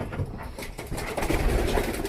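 Domestic racing pigeons coo in a loft at a carrier pigeon breeder's site in Poland, their soft, throaty calls overlapping continuously at close range with a dense background murmur of other birds.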